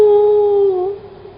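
A person imitates a frightened dog howling, one sustained, steady, mournful tone that wavers slightly and fades out, heard close and loud with no other talking.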